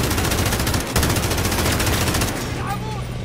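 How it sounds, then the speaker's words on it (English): A mounted machine-gun turret in the Modern Warfare campaign fires a loud, continuous rapid burst that runs for about two and a half seconds. It then cuts off into fainter background noise. "Now this is how you use this MG right here. It's a turret."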